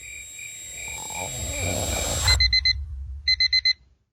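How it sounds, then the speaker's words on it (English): A simulated tinnitus tone: a steady high ringing buzz over a low rumble that cuts off abruptly, followed by two quick bursts of short, bright electronic beeps, loud and close with no speech. "imagine if you heard a ringing or buzzing noise like that all the time"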